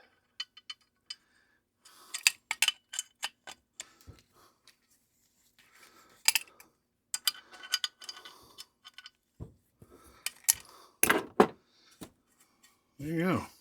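A wrench turns a nut down newly restored threads, making scattered sharp metallic clicks and small clinks in short bursts with quiet gaps, close and fairly faint, with voices talking between them.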